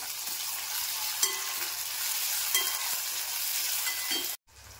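Steady sizzling of chopped tomato frying in hot oil tempering fills the whole stretch, with a few faint stirring clinks, close and continuous before cutting off.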